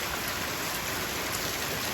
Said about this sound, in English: You can see the rain. You can see the water coming from my roof.